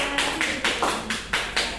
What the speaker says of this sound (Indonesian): beri tepuk tangan untuk Mbak Dia